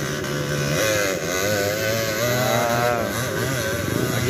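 Trail motorcycles, KMX or Honda 150 class bikes, revving hard at a riders' challenge in Bohol, engines rising and falling in pitch continuously and loud, several bikes overlapping with no talk.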